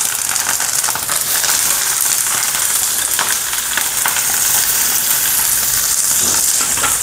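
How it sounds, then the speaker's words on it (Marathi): Green chillies roasting on a hot griddle after jowar and bajra bhakri, a steady loud sizzle and hiss with scattered crackles and pops, continuous and close. "त्याच्यावर हे बघा आता मस्तपैकी मी हे मिरच्या भाजून घेत आहे।"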